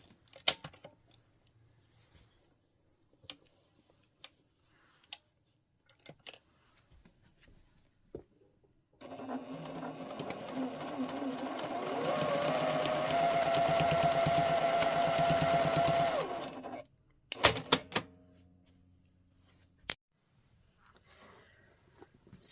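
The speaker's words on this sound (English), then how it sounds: "come on through till I sew off and backstitch again" Sewing machine stitching a quilted bag with backstitching, a steady close whir running for several seconds between quiet handling clicks before and after.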